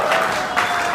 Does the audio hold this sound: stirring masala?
no